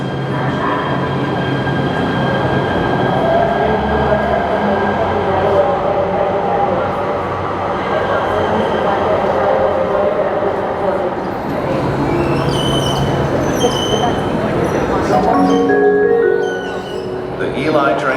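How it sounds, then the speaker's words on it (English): An LA Metro E Line train pulling into an underground station on opening day of the Regional Connector, with a loud, steady rumble of wheels and motors, high squealing near the end as it slows, and voices under the noise. "The E-Line train towards East LA is now arriving."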